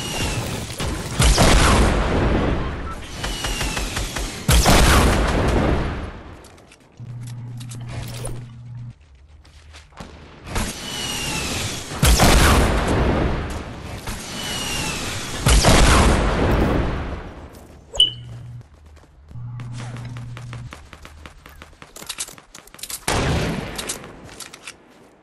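In a video game, bursts of gunfire and explosions come in loud waves, separated by quieter stretches of low mechanical rumble, with sharp cracks and booms rising and fading over the whole stretch.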